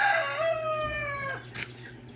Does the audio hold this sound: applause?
no